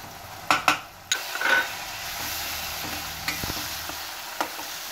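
Gram flour stirred into sizzling onion and tomato in a pan, a steady frying hiss with a few sharp scrapes and clinks of a spoon near the start, then continuous stirring alone.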